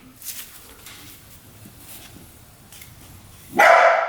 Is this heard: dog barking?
yes